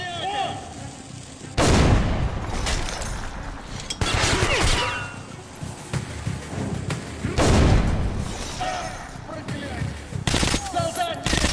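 Grenade explosions and gunfire in the video game Metro Last Light, with several loud, close booming blasts and rattling shots separated by lulls, over a constant noisy game background.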